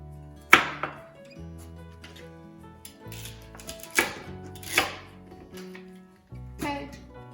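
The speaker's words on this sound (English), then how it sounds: "Chop it up just coarse." Leafy vegetables are chopped coarsely for turkey stock, with a few sharp knife strikes on a board at irregular intervals and soft kitchen handling sounds between them.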